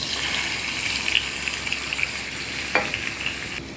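Chopped knol khol sautéing in a hot pan, a steady loud sizzle throughout with a brief scrape of a spatula near the end.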